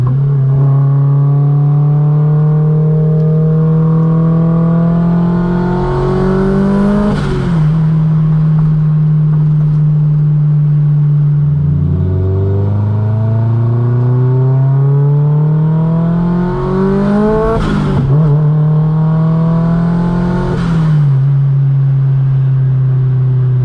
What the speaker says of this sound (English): Sounds like my car's still surging